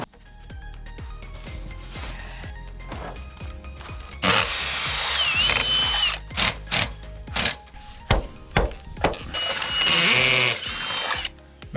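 Power drill driving screws into a concrete foundation while fitting insulation, with repeated short whirring bursts and longer sustained runs at close range, separated by brief pauses and clicks.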